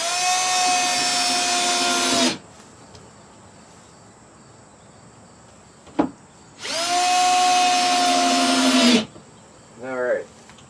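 A power drill drives screws into a wooden hen nest box, running in two steady whirring bursts of about two seconds each, separated by a short pause, with a brief faint voice at the end.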